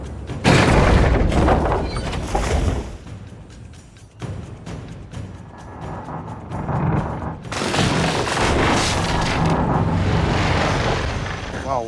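Heavy ship cannon blasts boom out in a pirate-ship battle cutscene from Spyro's Adventure, with loud bursts at the start and again near the end, mixed with music and effects.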